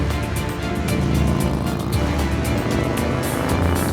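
Motorbikes in a cartoon race across a bridge over a lava river, a steady loud engine roar with buzzing revs that runs without a break throughout.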